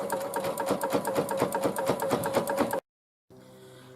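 An embroidery machine stitches leatherette appliqué for a cowgirl hat on a hooded towel, tacking it down in the hoop with a fast, steady, rhythmic needle chatter that stops abruptly, leaving faint low hum.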